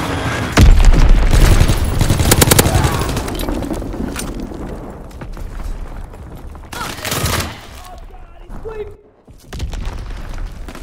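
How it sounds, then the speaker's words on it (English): Heavy artillery explosions and rolling gunfire in Call of Duty WW2 multiplayer, loud booming blasts with crackling debris, two big impacts a few seconds apart over a continuous battle din. "Incoming enemy artillery!"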